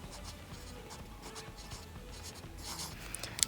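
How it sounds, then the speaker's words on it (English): A pen on paper practising calligraphy letters in cursive makes quiet, close scratching strokes in short, irregular bursts. "Then I like to write it in cursive."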